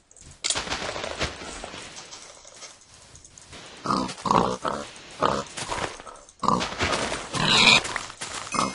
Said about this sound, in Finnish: Siinä on piggy.